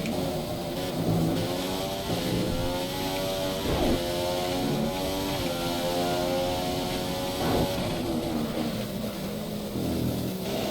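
A Formula 1 car engine screams steadily in F1 2015 during qualifying at the Canadian Grand Prix, loud and continuous with pitch climbing through gears and dipping at brief shifts.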